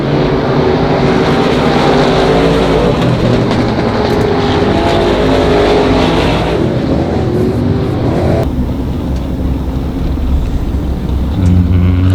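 Race cars roaring around the Monarch Motor Speedway track, a loud continuous engine drone from a packed field that shifts as the cars pass.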